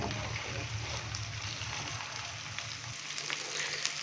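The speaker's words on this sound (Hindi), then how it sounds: "ऑयल हल्का सा गर्म हो चुका है, अभी हम इसके अंदर भिंडी डालेंगे।" Okra dropped into lightly heated oil sizzles and crackles steadily in a pan, a continuous close frying hiss with a low rumble that fades partway through.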